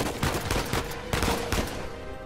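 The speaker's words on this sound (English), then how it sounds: "Double kill with a shotgun." Several heavy, booming shotgun blasts ring out in the action game Uncharted 4, loud and close, spaced irregularly over about two seconds with no talking.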